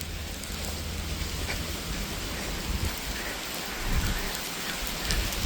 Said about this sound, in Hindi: इधर भी फिर फ्लाईओवर के नीचे अच्छी बारिश चल रही है